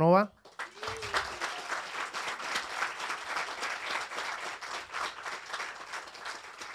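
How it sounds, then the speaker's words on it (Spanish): Audience applause at the close of a lecture on alchemy in Gothic cathedrals, a dense steady clapping from a hall crowd that starts right after a brief spoken line and continues evenly throughout. "un nuevo aplauso para Ars"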